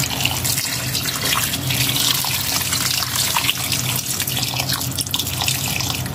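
Water pours steadily into a soup pot without pause, a broad splashing rush that fills the whole stretch with no talking over it.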